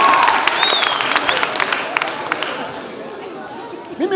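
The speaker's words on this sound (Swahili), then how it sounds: "mpigieni makofi bana" Studio audience at a TV comedy talk show clapping and chattering, a dense steady wash of applause mixed with crowd murmur and some voices, fairly loud and continuous throughout.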